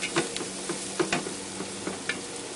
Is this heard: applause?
no